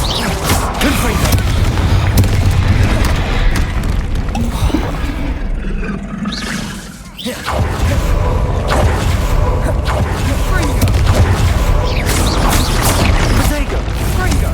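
Explosive spells burst in a Hogwarts Legacy battle against a troll, a loud sustained roar of booms and crashes that drops out briefly midway before resuming, with shouted voices throughout.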